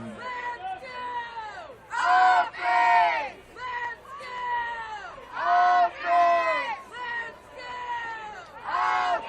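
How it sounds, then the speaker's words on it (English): A home crowd of Husky fans yells and cheers at a high school varsity football game between North Marion and Fairmont. Loud surges of shouting rise and fall every couple of seconds, with broadcast commentators talking alongside. "Good home crowd tonight. Yeah, you hear Husky faithful"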